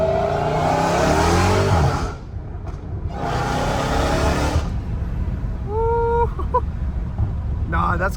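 A Dodge Hellcat Redeye with its catalytic converters removed roars loudly in two surging exhaust bursts near the start, then idles more quietly. A person talks over part of it.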